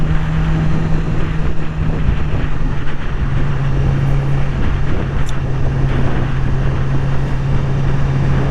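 A 2020 Yamaha R6 sport motorcycle ridden in first gear at about 30 mph on a road, its steady engine drone constant and close throughout, mixed with wind rush.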